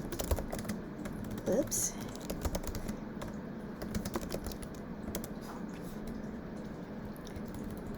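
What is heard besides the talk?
typing on a computer keyboard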